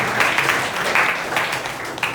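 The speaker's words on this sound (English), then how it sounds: "One round of applause to both of them." An audience at a motivational talk gives a round of applause, a steady wash of clapping at moderate loudness.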